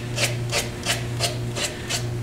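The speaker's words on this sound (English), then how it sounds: "I'm going to sand with the direction of the grain a little bit, especially over this end grain area" Sandpaper rubbing a spinning wooden bottle stopper on a lathe, working along the grain over end grain; rhythmic rasping strokes about every third of a second over a steady motor hum, close and fairly loud.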